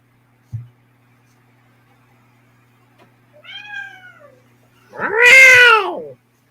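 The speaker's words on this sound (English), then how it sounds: "That's the cat that drives me nuts at night." A cat outdoors at night meows twice, a shorter fainter call followed by a louder, drawn-out yowl, after a brief thump and otherwise quiet surroundings.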